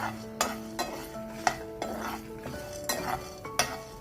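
Cumin, fenugreek, chillies and curry leaves dry-roasting in a pan for pepper curry, with repeated spoon scrapes and clinks against metal over a faint sizzle, close and intermittent.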